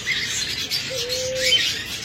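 A pair of pet birds chirps in thin, high bursts, with one brief lower tonal note in the middle, close and moderately soft, with no talking.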